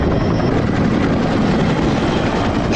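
Indian Chetak and Dhruv helicopters flying over an oil spill off Mauritius, their rotors making a loud, steady, close drone that fills the whole stretch with no voices.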